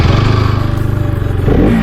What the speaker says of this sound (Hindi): तो अभी बाइक स्टार्ट हो जा रहा है फिलहाल